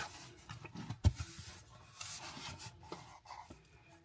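A watch packaging box is opened up close, with soft scraping and rubbing of cardboard and one sharp tap. The handling is quiet and has no voice over it.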